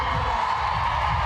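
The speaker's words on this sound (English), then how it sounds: "Listen to the crowd as Danson brings it forward." Sustained crowd noise from spectators at a women's hockey match between England and the Netherlands, a steady roaring wash with no distinct cheers or claps standing out.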